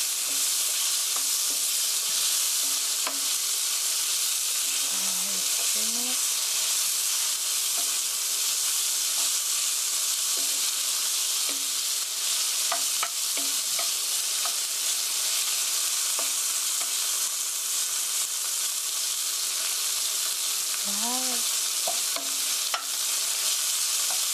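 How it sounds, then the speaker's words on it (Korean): Pork stir-frying in a hot pan for a curry rice bowl, with a continuous even sizzle and occasional spatula scrapes against the pan, and no talking over it. "이렇게 고기가 하얗게 익을 때까지만 볶아주세요."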